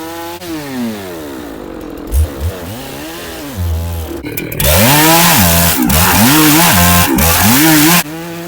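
A chainsaw cuts red gum logs in a forest, idling and blipping before revving to a loud, sustained full-throttle scream as the chain bites into the wood, with brief dips in pitch as the load changes.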